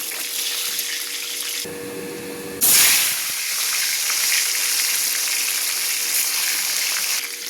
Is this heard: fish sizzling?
yes